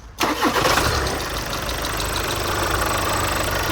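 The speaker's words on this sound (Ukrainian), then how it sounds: "Завівся бадьор, я ж кажу, він вже заводиться." A Volkswagen Passat B8 engine cranks briefly and catches, then settles into a steady, loud idle with a faint rhythmic knock running underneath.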